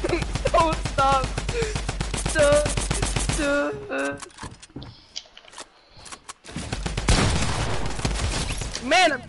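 Shotgun blasts from pump-action weapons in a first-person shooter match ring out in repeated bursts, mixed with other game gunfire, while several players talk and shout over the action.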